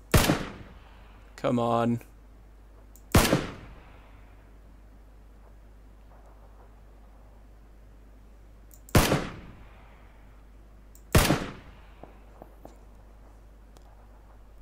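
Gunfire in the video game PUBG: three sharp, loud shots spaced several seconds apart, plus a brief buzzing burst near the start, over a low steady hum, with a short spoken remark.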